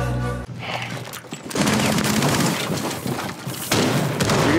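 Gunfire in the tactical shooter game Rainbow Six Siege, rapid bursts of shots with booming impacts, loud and continuous, briefly cut off before resuming at a dense, fusillade-like pace.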